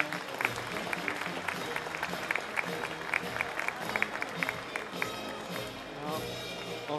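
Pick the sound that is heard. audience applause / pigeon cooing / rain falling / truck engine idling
audience applause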